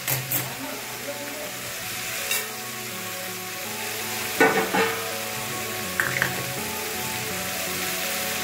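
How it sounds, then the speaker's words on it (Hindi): Spices roasting and sizzling in a pan, a steady low frying hiss throughout with a few brief stir clatters and scrapes rising over it. "थोड़ा अच्छे से भुनाई करेंगे इसकी।"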